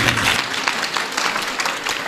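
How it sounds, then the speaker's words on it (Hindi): A small gathering claps together in a brisk burst of applause that stays steady and fairly close for about two seconds, with no talking over it. "ताली बजाओ इनके लिए।"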